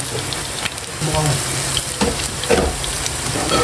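Small bolinao fish frying in oil, a dense crackling sizzle with spits and pops, interrupted by several handling knocks and a brief low rumble, close and fairly loud throughout.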